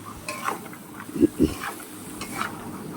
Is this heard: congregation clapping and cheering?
no